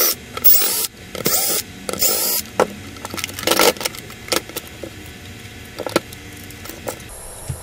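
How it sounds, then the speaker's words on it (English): Small screws being backed out of the plastic underside of a Nintendo NES console, with bursts of metallic clicking, scraping and rattling handled up close, alternating with brief pauses and softer taps. "we'll begin by flipping this thing over and removing some screws"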